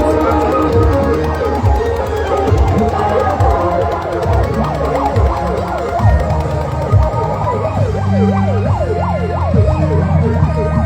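An ambulance carrying a body among a large gathered crowd sounds its siren, a loud, close wailing tone rising and falling repeatedly over engine and traffic rumble.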